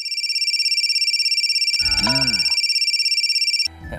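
A steady electronic phone ring with a rapid pulsing pattern repeats for several seconds, briefly joined by a chirpy sweeping tone, then stops abruptly.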